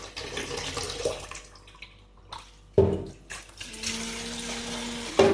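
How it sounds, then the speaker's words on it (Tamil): Water poured from a tap over frozen chicken to thaw it, close splashing and running water in uneven bursts with quiet gaps and a brief gurgling flow. "தண்ணி ஊற்றி வைப்போம்."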